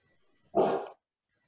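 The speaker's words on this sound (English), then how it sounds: "my husky's barking at me" A husky gives one short, loud bark close by in an otherwise quiet room.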